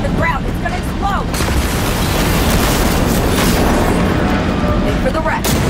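Explosion in a Cyberpunk 2077 Phantom Liberty cutscene, a loud sustained rumbling blast with debris-like crackle that fills the scene, with voices talking over it.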